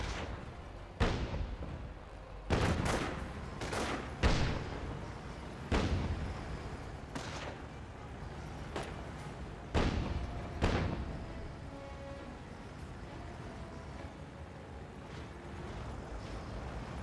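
Artillery barrage and gunfire in the Company of Heroes game: a steady run of booming shell impacts about every second or two, each a sharp thud with a rumbling tail, over a continuous bed of distant battle noise.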